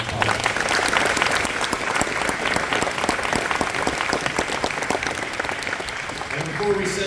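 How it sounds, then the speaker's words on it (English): A crowd at a high school fall football and cheer awards night gives sustained applause to the year's football letter winners, thick continuous clapping across the whole stretch with a few murmuring voices underneath. "Give them a round of applause."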